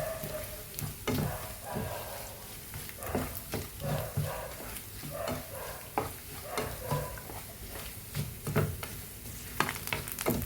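Onions frying in oil for Angamaly-style beef fry, a low, continuous sizzle broken by repeated rhythmic spatula scrapes and knocks against the pan, fairly quiet and close, with no talking.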